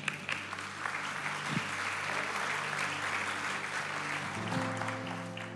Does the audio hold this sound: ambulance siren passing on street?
no